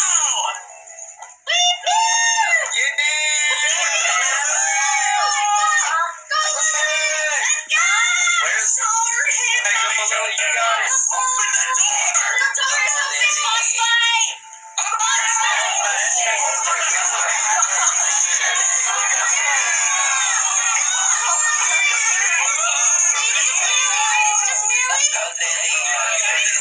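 A person screams almost nonstop for about 26 seconds during a live animation stream, a loud, high-pitched, wavering cry broken by only a few brief pauses.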